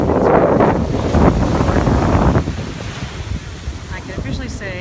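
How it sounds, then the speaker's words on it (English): Mediterranean Sea waves break and wash onto the beach with a loud, continuous roar, then fall back to a softer churning hiss, with heavy wind buffeting the microphone throughout. "This is the Mediterranean Sea."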